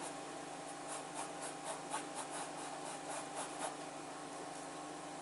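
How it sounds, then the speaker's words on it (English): A bristle brush works acrylic paint on canvas with light pressure, making soft repeated scrubbing strokes in a quick, even rhythm, close but faint, with no talking. "I'm not pressing too hard with this bristle brush, because it's a bristle brush I'm using."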